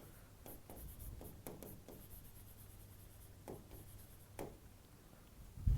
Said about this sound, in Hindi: ये मैं यहाँ लिख देती हूँ।